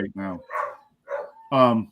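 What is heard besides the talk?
dogs barking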